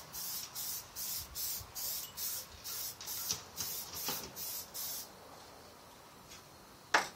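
Short bursts of spray paint hiss onto an RC car body for a third coat, about ten even pulses in a quick rhythm, then quiet with one last brief spritz near the end.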